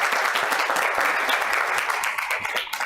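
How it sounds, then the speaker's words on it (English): Brief, steady round of applause from an audience at a town council meeting, dense clapping throughout. "give everyone a round of applause"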